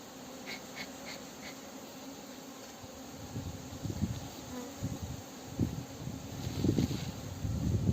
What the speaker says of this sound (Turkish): Erkek arılar uçuyor bakın.